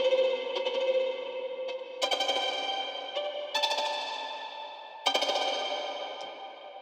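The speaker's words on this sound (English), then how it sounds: "Next, I'll add a special ricochet sound, which is the sound of a solo violin." A solo violin plays ricochet bowing, the bow bouncing on the strings in quick bursts of rapid repeated notes, each burst starting sharply and ringing away in a long, distant-sounding reverb tail.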